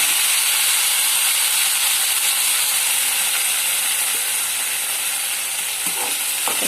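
Tempering spices sizzling in hot oil in a pan, a loud steady hiss and crackle heard up close, with a few faint clinks toward the end.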